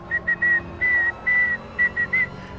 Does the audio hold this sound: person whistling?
yes